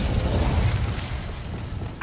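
An Incendio fire spell cast in the video game Hogwarts Legacy gives a low, rumbling whoosh with rattling mechanical crackle. The sound fades steadily over two seconds, and a brief burst comes at the end.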